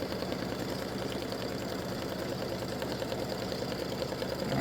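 A sewing machine stitches stiffener onto a tic-tac-toe board, its motor humming in an even, rapid mechanical rhythm that stays constant throughout at moderate loudness.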